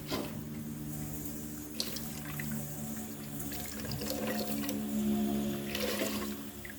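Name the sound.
water running while washing off curry paste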